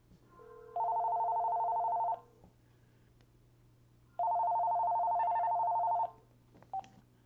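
A telephone rings for a 911 emergency call in two long steady electronic bursts with a pause between, clear and close over a low hum.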